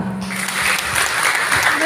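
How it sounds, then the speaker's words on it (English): A crowd at a high school graduation ceremony applauding steadily, a dense wash of many hands clapping that holds at an even level throughout. "You all deserve another round of a congratulatory clap."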